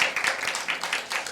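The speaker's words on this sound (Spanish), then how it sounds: "¿Cuántos podremos darle un aplauso al Señor fuerte por eso?" A church congregation applauds together in a steady wash of clapping, fairly loud and continuous, with faint voices mixed in.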